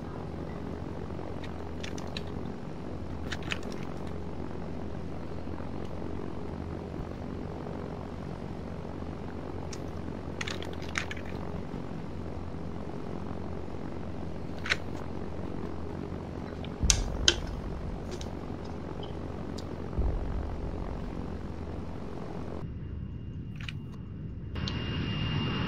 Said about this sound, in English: Alright, I'm gonna get in the helicopter again.